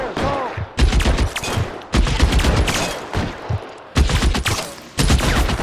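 Gunfire in the video game L.A. Noire: repeated loud, sharp bursts of shots arriving in several close clusters, with faint speech in between.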